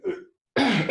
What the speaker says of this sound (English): Forgive me, coughing.